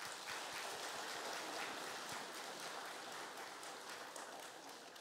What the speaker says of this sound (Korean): 우리 찬양대 우리 다시 한번 박수 한번